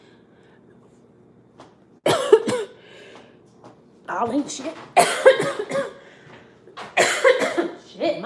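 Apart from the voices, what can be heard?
coughing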